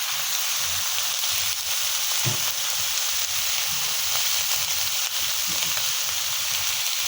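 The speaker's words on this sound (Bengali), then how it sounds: "একটু একসাথে ভাজবো।" Cauliflower frying in an oiled pan for vegetable biryani, a steady, close hiss of sizzling oil with faint occasional stirring knocks throughout.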